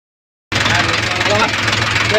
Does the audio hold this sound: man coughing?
no